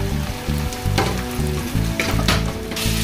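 Homemade ghati masala chilli powder fries in a pan for masoor dal kanda, a loud close sizzle broken by repeated stirring scrapes of a spoon, with no voices.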